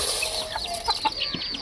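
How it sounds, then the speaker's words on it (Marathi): A hen feeding on scattered grain with her chicks gives a few short, close clucks, mixed with faint high peeps from the chicks. "कोंबडी बघ कशी खाते पिल्लांना घेऊन."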